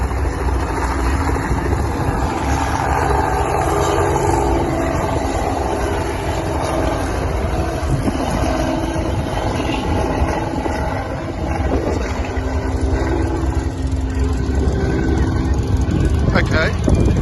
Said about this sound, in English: There the helicopter takes off, as you can hear.